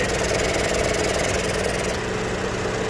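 A 2014 Ford Explorer with the 3.5L V6 idles steadily, a continuous mid-pitched engine hum with a faint rhythmic knock, heard up close and alone throughout.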